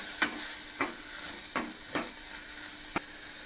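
Tomatoes sautéing in a pan for a dried fish curry, with steady sizzling and sharp spatula scrapes and taps repeating every half second or so, close and without talk.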